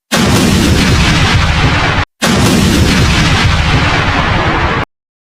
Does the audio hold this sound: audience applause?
no